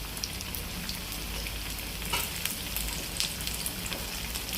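Kara paniyaram sizzles steadily in oil in the cups of a paniyaram pan, with a continuous close crackle and a few small pops, and no one speaks.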